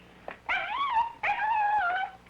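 A dog whimpers in two drawn-out, rising and falling whines, close and clear against a quiet background.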